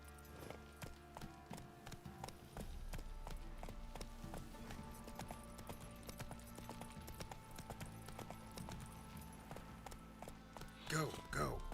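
Roach the horse's hooves clip-clop at a gallop in The Witcher 3, a steady rapid beat over game music and ambience, with a person talking over it.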